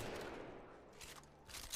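R-301 rifle firing in the Apex Legends video game, heard as two short, quiet bursts of rapid gunfire after a stretch of faint background noise.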